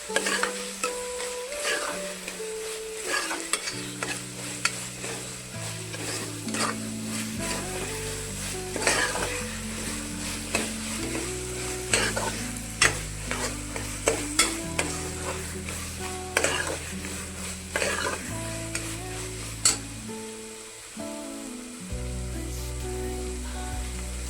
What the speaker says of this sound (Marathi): आलं लसूण चांगली भाजून घ्यायची.